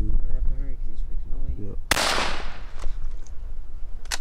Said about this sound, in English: Let me shoot him again.